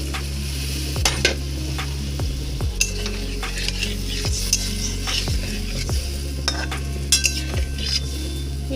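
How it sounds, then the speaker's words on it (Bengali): Water from rinsing a plate poured into a hot pan with hilsa fish fried in oil, setting off a steady sizzle. Scraping stirs and utensil knocks against the pan recur now and then. "এবারে থালাটা ধোয়া জল দিচ্ছি একটু"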